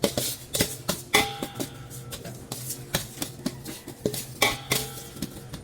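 A spoon scrapes and clinks against a pot while mixing chopped garlic, onion and bay leaves, with close, irregular metallic taps and knocks spaced through a few seconds and no talking.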